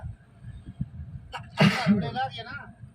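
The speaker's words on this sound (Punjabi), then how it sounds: "ਬਸ ਛਿੱਕਾਂ ਲੱਗੀਆਂ ਜ਼ੁਕਾਮ ਲੱਗਿਆ" A single sharp sneeze bursts out near the microphone, with a short breathy trail after it, over low background rumble.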